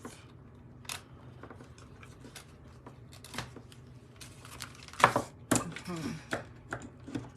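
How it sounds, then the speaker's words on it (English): Ribbon scissors cutting paper at a craft table while making a Christmas card, a series of sharp snips and rustles, irregular and close, with some faint speech in the background. "I'm using my ribbon scissors"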